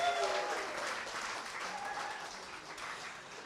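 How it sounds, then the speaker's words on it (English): Audience at a JavaScript conference talk applauds as a speaker takes the stage, steady dense clapping from many hands, fairly faint and distant, tapering slightly over a few seconds. "A round of applause"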